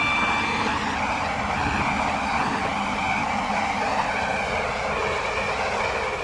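A Class 345 train on the Airlink Shuttle in the Roblox game SCR runs at speed, giving a steady, unbroken rumble and hum with a faint high electric whine near the start, no voices.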